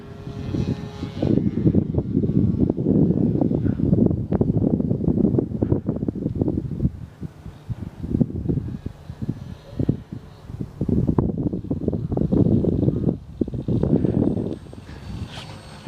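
Strong gusts of wind, around 25 mph, buffet an outdoor microphone in heavy rumbling bursts during the flight of a repaired radio-controlled Fw 190 model plane, with a faint engine drone in the background.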